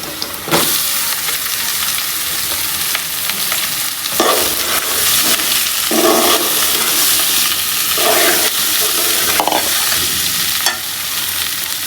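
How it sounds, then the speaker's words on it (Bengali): Potatoes tipped into onions frying until reddish in a pan for a village-style rohu fish curry, with a loud steady sizzle throughout and repeated scraping stirs every couple of seconds, no talking. "এই যে পেঁয়াজটা এরকম অবস্থায় আমি আলুটা এখন এখানে ছেড়ে দিব"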